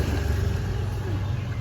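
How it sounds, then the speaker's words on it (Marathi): Vehicles passing along a road during a Holi outing, a continuous loud rumble of traffic with engine drone close by. "थांब गाड्या जाऊ दे एक मिनिट"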